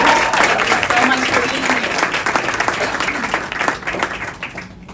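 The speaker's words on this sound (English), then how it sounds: "Let's give one big round of applause for our panelists here today" An audience at a women in sports and entertainment conference applauding a broadcasting and media panel, with dense, loud clapping that slowly tapers off over several seconds.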